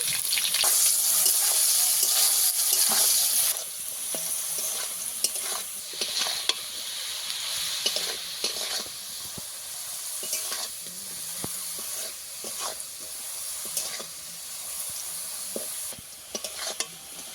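Potatoes frying in a pan while being stirred, with a steady sizzle and repeated scraping strokes of a utensil; a brief stretch of running water at the start, no voices.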